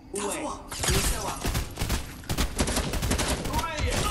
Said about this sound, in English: Why are they always shooting, why are we shooting already?